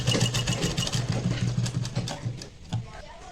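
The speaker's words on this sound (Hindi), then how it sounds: "इस तरीके से लॉक सिलाई लगा देंगे।" A sewing machine runs a lock stitch on a baby frock, humming steadily with a fast rhythmic chatter up close before slowing and stopping near the end.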